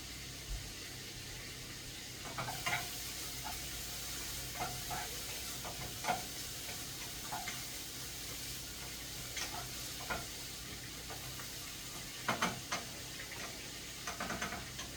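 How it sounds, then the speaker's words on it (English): Bacon and onions sizzle steadily in a pan, with occasional soft scrapes and stirring clicks over a continuous hiss. "We're starting with the bacon and onions."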